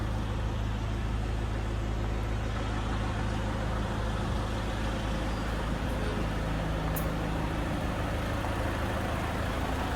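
A vehicle engine runs steadily and loud throughout, a continuous low rumble with road-like broadband noise and no talking, ready before a trip to temples in Mangaluru.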